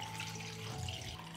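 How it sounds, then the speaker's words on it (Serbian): Water pours into a cooking pot lined with a cloth at the bottom, a steady splashing rush that holds its level throughout without speech. "u šerpu sipate vodu"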